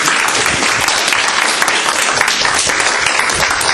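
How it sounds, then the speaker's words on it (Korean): A church congregation at a men's mission devotional service claps in a dense, continuous burst of applause to welcome a speaker, close and steady with no talk. "나오실 때 우리 박수로 환영해 주시겠습니다"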